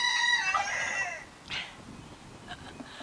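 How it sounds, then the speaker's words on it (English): On a homestead, a rooster crows loudly and close, and chickens cluck softly in the following moments; no one talks. "Don't worry about the chickens in the background."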